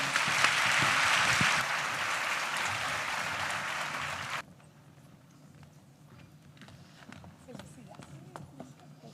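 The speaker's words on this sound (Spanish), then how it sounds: "Démosles, por favor, un fuerte aplauso." Audience applause for women panelists at the close of a panel discussion on stage, a broad wash of clapping lasting about four seconds and then cutting off sharply to quieter room sound with faint scattered noises.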